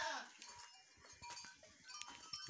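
Saanen crossbreed goats bleat faintly and briefly in a pen by the feed trough, amid scattered farmyard knocks and shuffling, with no voices heard.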